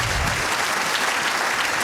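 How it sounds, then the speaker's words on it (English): Audience applause fills a Rotary training session, steady dense clapping from a roomful of people, moderately loud and continuous throughout. "you can give her a big round of applause"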